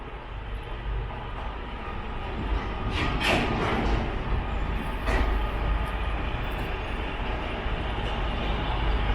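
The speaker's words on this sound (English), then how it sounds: "This might give you a better idea of the length of the freight train." A long freight train rumbles steadily past Junee Railway Station in New South Wales, a continuous loud roll of wheels and wagons with occasional squeals and clanks, going on without a break.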